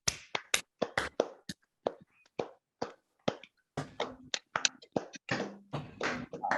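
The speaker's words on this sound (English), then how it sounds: "we are going to clap that tempo on the count of 3" A group of people clapping a chosen tempo together, the claps sharp and close but uneven and out of step, forming a chaotic, overlapping patter that grows denser toward the end.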